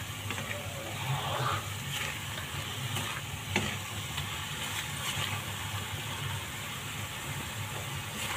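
Grated coconut filling for puli pitha is stirred and scraped around a hot pan, a steady close-up rasp with a soft sizzle underneath and occasional sharper spoon knocks, with no talking.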